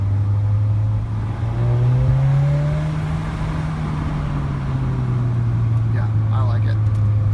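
MK7 Golf R with downpipe, APR turbo muffler delete and resonator delete, valves open, droning steadily on the road with a low exhaust tone that rises and falls, alone and fairly close.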